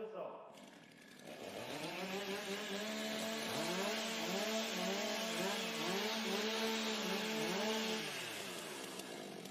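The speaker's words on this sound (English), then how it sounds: "Okay, warm up your saw." A chainsaw warms up at a STIHL Timbersports competition, its engine running loud and near in a steady, buzzing drone that swells with revs for several seconds.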